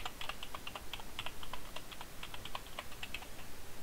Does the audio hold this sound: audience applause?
no